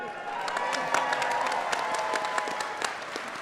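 A convention crowd at a furry fandom closing ceremony claps and cheers in a dense, steady wash of applause, with scattered sharp claps standing out and a general crowd roar beneath.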